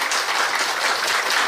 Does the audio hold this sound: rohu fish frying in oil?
no